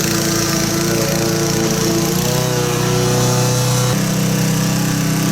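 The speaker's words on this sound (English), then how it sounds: "We've got the mower's set at 3 inches." A lawn mower with its deck set at 3 inches drones steadily and loudly up close while cutting grass, its engine pitch holding constant and dipping slightly partway through, with no talking.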